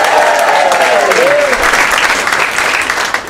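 A comedy club audience at Stand Newcastle gives loud, sustained applause and cheers for the host, with a voice briefly rising over the clapping before it tapers.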